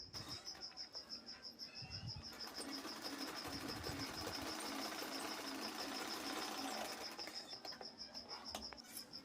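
A sewing machine stitches a blouse sleeve with a steady, fast mechanical ticking that runs continuously and evenly at close range, with no talking.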